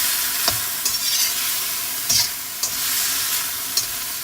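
Chicken frying in hot oil for Punjabi-style fried rice, a dense steady sizzle close up, punctuated by several sharp stirring scrapes against the pan.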